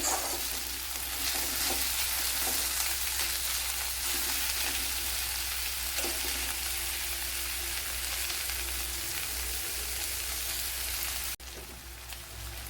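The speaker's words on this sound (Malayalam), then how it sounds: "ചെറിയൊരു തക്കാളി ഇതുപോലെ കട്ട് ചെയ്തെടുത്തിട്ടുണ്ട് അത് ഇട്ട് കൊടുക്കാം ഇനി തക്കാളിയൊക്കെ ഒന്ന് വഴണ്ട് വരണം" Chopped tomatoes frying in a pan for egg curry give a steady, close sizzle with occasional stirring scrapes, continuous for most of the stretch before dropping to a quieter hiss near the end.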